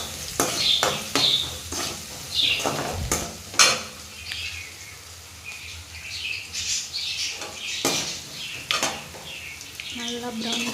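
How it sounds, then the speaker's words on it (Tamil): Sliced onions frying in oil in a pan for a beans gravy, a steady sizzle and crackle with the scrape and clink of a stirring spoon against the pan at irregular moments. "நல்லா ப்ரௌன் கலர் வர வரைக்கும் நல்லா வதக்கலாம்"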